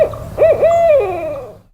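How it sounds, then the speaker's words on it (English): An owl hoots at night in rural Tennessee, giving a short rising-and-falling call followed by a longer drawn-out hoot that trails off. It is close and clear with faint background noise. "it's kind of a creepy creature when you listen at night, because out here in in Tennessee, they just sound spooky"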